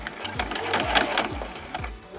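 A sewing machine stitches binding onto a hot pad in quick, even bursts of mechanical clatter. Each needle stroke sounds clearly up close, and no one speaks.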